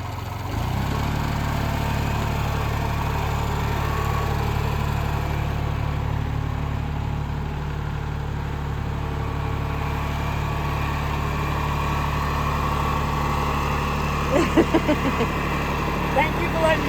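Tractor engine idling close by in a steady, even low rumble throughout, with a few faint clicks and knocks near the end; no talking.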